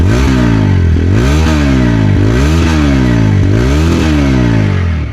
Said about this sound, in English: So this is the kind of sound you get from the Apache 164V's mounted exhaust